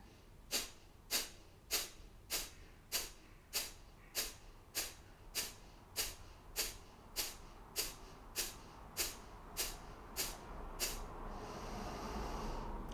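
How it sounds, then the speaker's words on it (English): Breath of Fire, the rapid Kundalini yoga breath, about seventeen sharp, evenly spaced nasal exhales close to the listener, fading into a steady soft hiss of breath. "Breath of fire."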